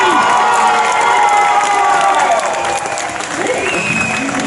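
A crowd at a knights versus barbarians show in Angers applauds and cheers loudly, dense clapping and shouts with children's voices mixed in, easing slightly toward the end.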